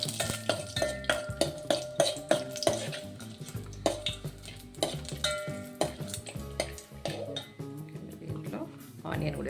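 Whole bagara spices and two bay leaves fry in a little oil for Hyderabadi bottle gourd dalcha, under a steady, rhythmic series of close metal clanks and scrapes from stirring in the pot, over a light sizzle.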